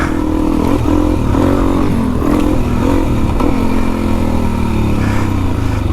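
A Suzuki DRZ400E dirt bike engine on a wet trail ride, loud and close, its throttle rising and falling in repeated revs over a rough rumbling drone, with no talk.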